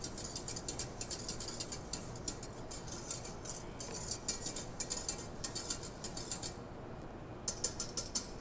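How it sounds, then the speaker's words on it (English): A whisk beats orange juice into a freshly boiled gel mixture in a pot or bowl, making rapid continuous metallic ticking and scraping up close, with a brief pause near the end and no talking. "I'm going to add the other half of my juice and just whisk it in"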